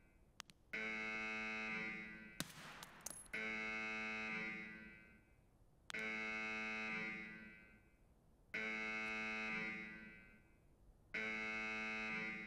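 Electronic alarm buzzer in Escape from Tarkov on the Reserve map, blaring in four long sustained blasts separated by short gaps, loud and steady, with a brief burst of clattering noise between the first two blasts.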